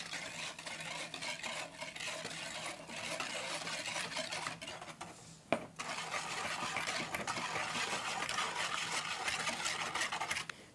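A wire whisk stirs banana pudding mixture made with dry pudding mix in a bowl, giving a steady scraping, rustling whir that runs throughout at an even level with one brief knock near the middle.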